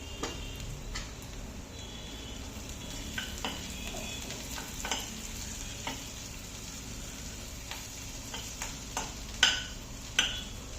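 Food sautéing in a pan while pasta is made at home, a steady sizzle and hiss with occasional sharp ticks and clinks of stirring, close and fairly loud, no talk.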